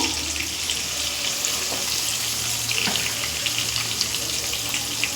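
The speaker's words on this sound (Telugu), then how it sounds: "ఈ రెండో వైపు తిరగేసినంత వరకు అలాగా ఫ్రై చేసుకుని ఉంటాను" Bocha fish fries in a pan over a high flame for curry, giving a steady, dense oil sizzle with faint crackles throughout. It is close and continuous, with no talk.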